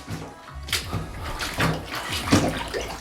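Water splashing onto Vessi waterproof boot-style shoes, several close bursts of pouring and splattering water with slight pauses between them.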